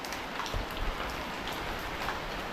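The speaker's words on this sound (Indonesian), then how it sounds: "ini gerimis. Sedang hujan guys" Light drizzle falls steadily outside a heart hospital in Padang, a continuous soft hiss of raindrops on surfaces with no talking.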